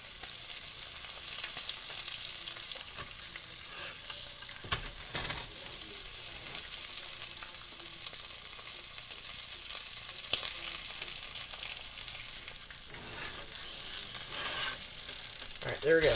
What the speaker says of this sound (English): you want to lay them down where that butter and stuff is all hot, and that'll cook them quick